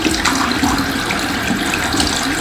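Steady running water from a tap splashes during home black-and-white film developing, a continuous broadband rush close by, with no speech.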